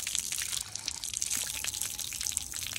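Water runs from a tank tap outdoors for washing, a steady faint splashing trickle with no talk over it.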